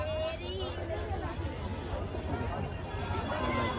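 A busy outdoor crowd murmurs in a steady background hubbub of voices and movement, while someone nearby speaks over it.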